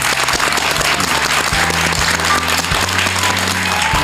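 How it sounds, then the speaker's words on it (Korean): Studio audience applause on a Korean television talk show, a loud, continuous wash of clapping with a low musical tone running underneath it. "박수로 감사합니다"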